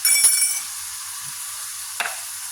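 Food sizzles in a hot pan during a Thai stir-fry, a bright hissing fry with two quick clinks of a utensil against the pan and no talk.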